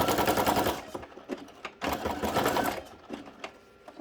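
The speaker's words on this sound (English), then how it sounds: "So this one I'm just going to sew through it like this." A sewing machine stitches through fabric and cardboard up close in two fast, rattling runs, each about a second long, with short pauses and a few lone mechanical clicks between them.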